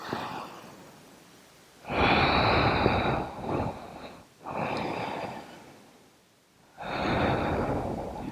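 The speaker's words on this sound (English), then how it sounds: "Two more breaths." Slow, deep breaths during a yoga session, three long airy exhales spaced a couple of seconds apart, close and moderately loud with quiet pauses between them.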